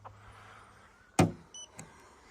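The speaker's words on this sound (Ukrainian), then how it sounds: "має автомобіль панорамну кришу, відкривну два режими на провітрювання і повністю від'їжджає дозаду" The electric motor of a BMW iX3's opening panoramic roof gives a short, sharp mechanical whir. Brief softer clicks and whirs follow in a quiet car interior.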